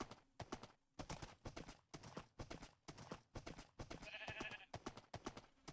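A horse ridden up mountains in Minecraft survival gives steady, rhythmic clip-clopping hoofbeats, loud and close, with a short tonal chime partway through.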